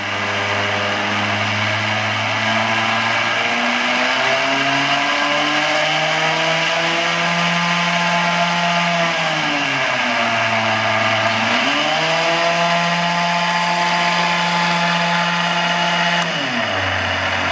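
DC machine running in motor mode: a loud, steady electric whine with a humming drone whose pitch dips and recovers several times as the load shifts, with no talking.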